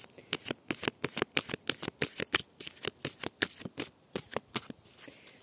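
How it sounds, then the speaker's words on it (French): Large tarot cards shuffled for a July Aquarius reading, a fast, regular train of crisp card slaps and riffles up close, slowing and fading toward the end, with no speech. "est-ce que je peux les battre comme ça? Non, je peux pas, elles sont trop grandes."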